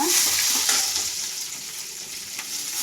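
Garlic and fennel seeds fry in hot oil just after mustard seeds have spluttered, giving a steady, close, loud sizzle with faint stirring and no voices.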